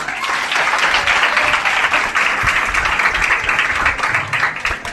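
A college audience at a cultural association inauguration claps loudly and continuously, a dense, even wash of applause that fills the room for several seconds with no voices over it.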